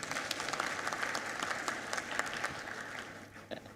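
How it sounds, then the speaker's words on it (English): Steady applause from a conference audience at a national development review in Uganda, many hands clapping densely and evenly throughout, moderately loud with no voices above it. "Let us give him another big hand clap."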